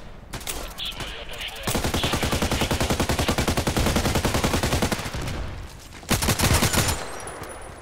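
Rapid automatic assault rifle fire in the shooter game Contract Wars, two sustained bursts of dense rapid shots, loud and close, with brief quieter gaps of game ambience between them.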